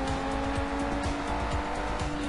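In the video game Sleeping Dogs, a race car's engine roars continuously and loudly while its tires squeal during street racing.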